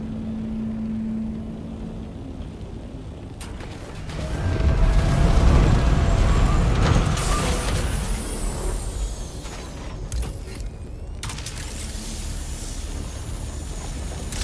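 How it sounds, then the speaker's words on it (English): A sandworm approaching in the desert of Dune: Awakening, a deep rumbling roar that swells in the middle and then lingers over the steady hum of a flying aircraft. "I keep expecting the worm to try to come eat the plane out from under me"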